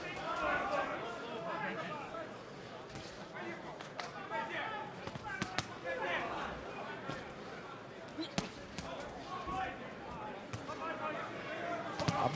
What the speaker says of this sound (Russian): Тут и звук другой даже от ударов.